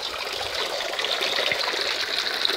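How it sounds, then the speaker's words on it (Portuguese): Water drains steadily from the outlet pipe of a tilapia tank built in a water tank, a continuous close rush and trickle with no voices over it. "Tira um pouquinho de água."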